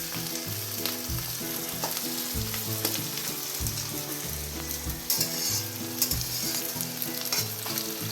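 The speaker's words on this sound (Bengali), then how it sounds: "পেঁয়াজটা আর একটু ভাজা হলেই আমি ডালটা ঢেলে দেব।" Onions frying in a pan for sambar, giving a dense, continuous crackling sizzle that stays steady and close throughout, with no voices.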